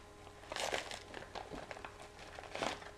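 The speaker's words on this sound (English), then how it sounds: "I'm just gonna rip it open." A mail package being ripped open by hand, with quiet crinkling and tearing of paper or plastic in short bursts, close but faint, with no talking.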